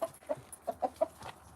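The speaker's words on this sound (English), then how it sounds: "There's a chicken." A chicken clucks in a short series of five or six soft, evenly spaced notes, fairly close and moderate in level, with no talk.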